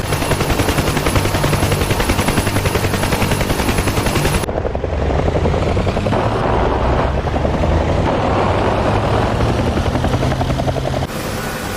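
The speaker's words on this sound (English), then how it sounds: "Oh shit, I'm getting shot. Ground fire." Heavy helicopter rotor and engine roar inside the DCS World helicopter simulator over Mogadishu, with ground gunfire rattling in dense bursts throughout, loud and continuous, the texture shifting partway as the firing intensifies.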